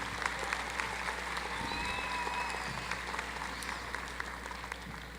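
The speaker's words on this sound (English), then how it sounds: "A round of applause for Amy, please." Audience applause fills a commencement ceremony for graduates at Roan State, a steady wash of clapping from a large crowd in a hall, with a few faint tonal whistles or cheers rising over it.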